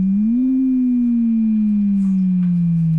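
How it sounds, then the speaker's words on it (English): A steady FM synth tone from a Korg ESX slowly sweeps up and down in pitch, wavering smoothly throughout, loud and clear with nothing else around it. "it's rising and falling in pitch. That is FM modulation"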